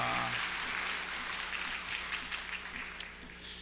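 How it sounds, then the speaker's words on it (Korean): A church congregation gives a round of applause on Easter Sunday after a cantata, a soft, distant wash of clapping that slowly thins out, with a sharp clack near the end. "우리 하나님께 영광의 박수를 올리겠습니다"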